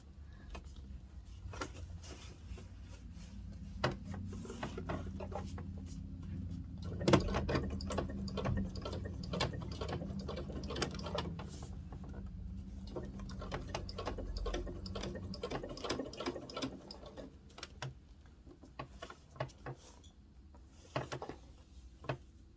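A sewing machine stitches a rank patch onto a military uniform, running in a continuous quiet whirring hum with rapid ticking of the needle and a few brief pauses.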